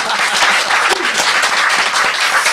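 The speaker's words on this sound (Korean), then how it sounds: "박수 한번 부탁합니다." An audience applauds loudly in a hall, dense continuous clapping throughout with a few scattered louder claps and a faint voice briefly underneath.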